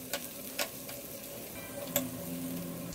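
Onion and bitter gourd pieces frying together in a pan, a quiet steady sizzle broken by a few sharp ticks and clicks of a spoon.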